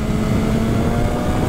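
A 2019 BMW S1000RR, a 999cc liquid-cooled inline-four sportbike, roars steadily under hard acceleration, its engine drone loud and continuous with heavy wind rush throughout this brief moment.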